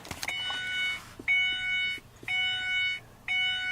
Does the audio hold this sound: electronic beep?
yes